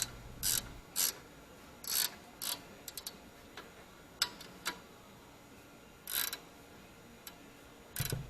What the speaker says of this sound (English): That is your 13 millimeter ratcheting wrench. You can be taking off just the bottom bolt on this one.